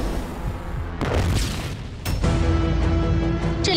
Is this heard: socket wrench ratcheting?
no